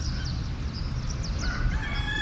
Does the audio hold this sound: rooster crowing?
yes